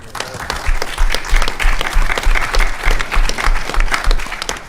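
Sustained applause from a conference audience at a transportation forum after praise for the metro system, dense clapping filling the room at a steady loud level throughout.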